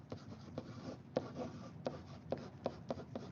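A pen or marker writes out notes by hand, giving quiet, steady scratchy strokes punctuated by sharp taps, close up, with no talk.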